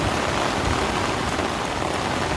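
Heavy rain pours steadily at an outdoor site in western Odisha, a dense, constant hiss that stays loud and even throughout with no talk.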